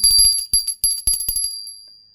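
A Hindu puja bell topped with a Garuda figure, struck in a quick series of bright metallic rings with sustained high overtones that fade into a lingering shimmer after the last strike.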